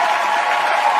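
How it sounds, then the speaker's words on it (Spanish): Steady, dense applause from a crowd during a live broadcast, a continuous even wash of clapping filling the whole moment without pause. "Un aplauso, por favor."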